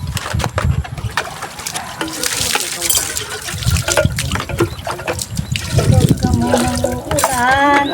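Running water from a tap while dishes are washed by hand: splashing, trickling and clinking close by, with people talking over the water flow.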